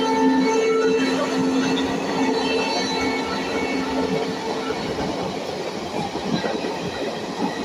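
A WAP4 electric locomotive hauling an empty rake rumbles and clatters past on the rails, with a brief horn that sounds like a WDP4D at the start, then continuous wheel noise.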